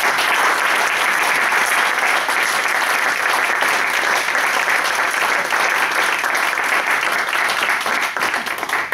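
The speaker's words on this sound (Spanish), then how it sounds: "damos un fuerte aplauso" An audience at a talk breaks into loud, sustained applause, dense clapping close and even from start to finish before tapering slightly at the very end.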